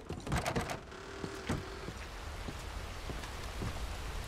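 Steady video game rain in Red Dead Redemption 2 patters on a surface with scattered heavier drops, a continuous wash of noise with occasional sharper knocks.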